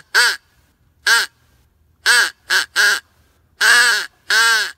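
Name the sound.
crow call blown, imitating crow caws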